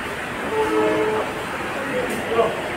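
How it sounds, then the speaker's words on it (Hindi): A Vande Bharat Express train sets off from the platform, its steady rumble joined by brief tonal horn notes, with crowd noise and nearby voices over it. "ये रही guys Vande Bharat, oh my God, जो कि जाने वाली है अभी वंदे भारत एक्सप्रेस।"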